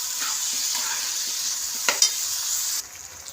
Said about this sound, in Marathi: आपण छान अशी डाळ परतून घेतलेली आहे,